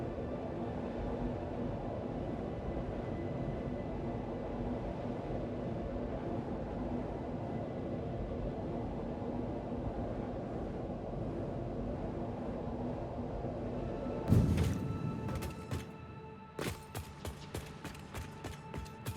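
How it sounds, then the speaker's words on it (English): A steady rumbling train ride in the video game Satisfactory with a constant low drone, followed near the end by a series of sharp clacks. "Go for a train ride to show you the train network"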